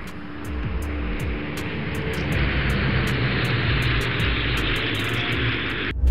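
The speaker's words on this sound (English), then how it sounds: "You can feel the power of the jet." A jet aircraft engine roars in a loud, sustained rumble and whine, steady and close, holding its power for several seconds before cutting off abruptly at the end.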